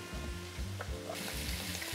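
Water boiling in a pot on the stove for linguine, a soft, steady bubbling and sizzling hiss, quiet and close with no talking.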